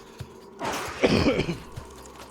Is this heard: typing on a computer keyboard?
no